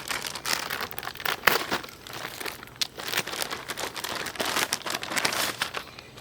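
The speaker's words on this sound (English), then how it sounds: "from Hunter Safety System, we have the Defender saddle. So I'll go ahead and open it up right here." Packaging paper crinkles and rustles as a Hunter Safety System Defender tree saddle is unboxed, steady close handling crackles with sharper crumples and a few tearing bursts, no talking.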